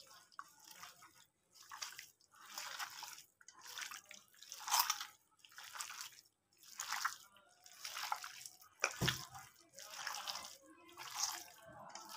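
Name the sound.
mixing marinade ingredients into mutton by hand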